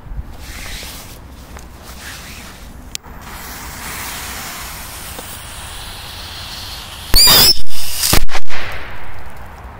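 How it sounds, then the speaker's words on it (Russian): Firecrackers and rockets go off on a toy car outdoors. A steady hissing rumble builds, then a close cluster of loud sharp bangs and pops bursts near the end. "Есть взрывы."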